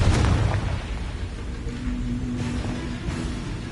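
A Confringo spell blast goes off in the Hogwarts Legacy video game with a loud initial burst, then a rumbling, crackling low roar that lingers for several seconds.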